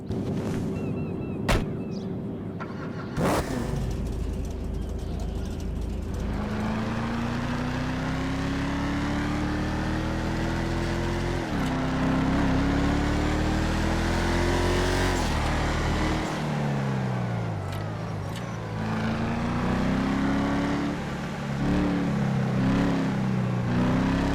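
Mamba sports car in GTA Online revs and winds down, engine pitch rising and falling through repeated downshifts with a sharp blip or two, loud and continuous throughout.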